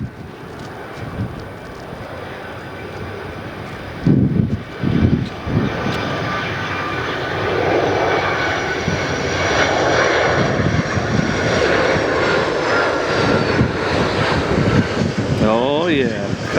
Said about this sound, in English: coming inbound from Denver, Colorado, and a 757-200